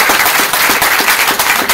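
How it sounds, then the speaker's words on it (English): Loud, close, continuous clapping from an audience at a WorldVentures testimonial talk, a dense burst of applause with no talking. "I think you guys deserve a round of applause for being here and your presence."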